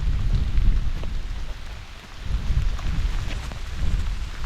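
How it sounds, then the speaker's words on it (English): Heavy rain pours steadily outside a forest cabin shelter on a hillside as a thunderstorm builds, with low gusts of wind rising and falling beneath the dense, continuous hiss of the downpour, and no voices. "We have some heavier rain coming down now, ladies and gentlemen. At the same time, the wind's picking up a bit."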